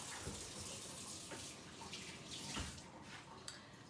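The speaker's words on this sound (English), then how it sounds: "Let me wash my hands" A kitchen sink tap running steadily while hands are washed under it, a close continuous rush of water with slight splashing variations and no talk.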